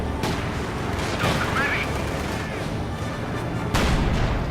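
Anti-tank guns fire in a Company of Heroes 2 battle, with booming shots and gunfire bursts over a dense, continuous wash of battle noise, loud and close, with a sharp blast near the end.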